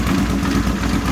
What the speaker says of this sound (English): Keys in the off position. Headlight dead. Motor's still running.